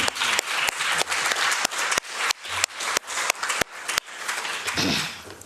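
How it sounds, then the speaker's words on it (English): A conference audience claps for its panelists, a dense, steady applause that stays full and even for several seconds with no talking over it. "let's give a round of applause for all of them"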